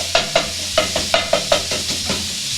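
Chopped sausage frying in a pan for ravioli sausage soup, with a series of sharp stirring or scraping clicks spaced about every quarter second over a steady sizzle, close and moderately loud, no talking.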